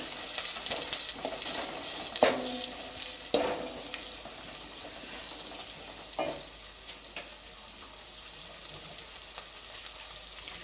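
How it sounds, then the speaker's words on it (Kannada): Curry leaves and onion frying in a pan for a greens stir-fry, a steady close sizzle with a few sharp spatters and utensil clatters, no talking. "ತಗೊಂಡಿರೋವಂಥ ಕರಿಬೇವು ಹಾಗೆ ಈರುಳ್ಳಿ ಬಿಟ್ಟು ಚೆನ್ನಾಗಿ ಫ್ರೈ ಮಾಡ್ಕೊಳ್ತೀನಿ"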